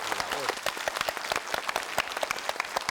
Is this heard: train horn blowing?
no